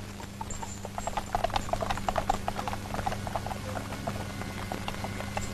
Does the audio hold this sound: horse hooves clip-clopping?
yes